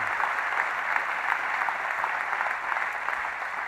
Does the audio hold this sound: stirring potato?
no